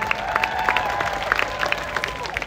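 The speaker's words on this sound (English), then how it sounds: "Give yourselves a round of applause, everybody." Applause from a crowd at an anti-ICE protest rally in Los Angeles, a steady wash of clapping with sharper individual claps and faint shouts scattered through it.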